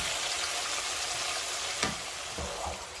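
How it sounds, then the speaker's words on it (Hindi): About 2 kg of boneless chicken breast sizzles loudly in a hot pan, with a steady dense frying hiss and a couple of brief stirring knocks, close and alone without talk. "अब इसमें मैं ऐड करूँगी चिकन। ये चिकन ब्रेस्ट है, बोनलेस है।"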